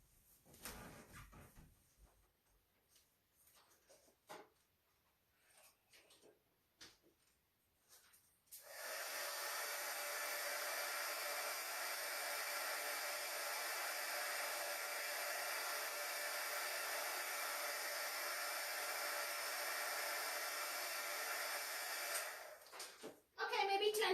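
After a few seconds of faint handling and rustling, an embossing heat tool warming a stamped card starts up and blows as a steady, loud whooshing roar for about fourteen seconds, then cuts off.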